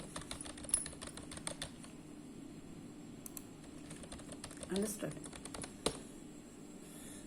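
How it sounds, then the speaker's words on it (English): Students type on computer keyboards in a classroom lesson on PowerPoint slide formatting, a steady patter of key clicks running under a teacher's voice with a few louder taps. "Now start typing."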